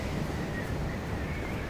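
Steady, faint hollow wind ambience in the open world of Skyrim, a soft continuous rush with a thin airy whistle and no other sounds or voices.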